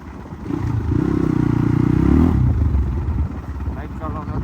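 A motorcycle being ridden: a close engine drone swells and holds for a couple of seconds, then eases back to a rougher idle-like rumble.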